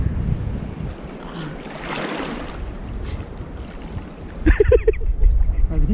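Sea waves washing and surging during a rainy fishing outing, with wind buffeting the microphone and a louder wave crash near the end.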